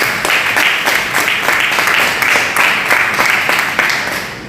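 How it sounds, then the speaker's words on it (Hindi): Applause from an audience at a company start-up meeting, a loud rhythmic burst of clapping with steady regular beats, fairly near and continuous throughout. "एक बार जोरदार तालियां।"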